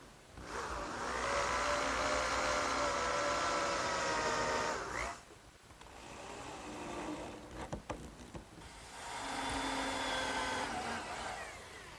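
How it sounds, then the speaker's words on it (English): A power drill drives screws into a wooden garden workbench. Two long, steady whirring runs are broken by a quiet gap with a few knocks, and the tool sounds close but fairly faint. "I'm just going to put 4 screws down each edge."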